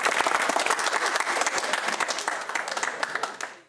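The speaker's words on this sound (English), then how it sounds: "You can applaud if you like." A studio audience at a Christmas University Challenge quiz broadcast applauds steadily, a dense, close burst of clapping that tapers off at the end, with a voice faintly underneath.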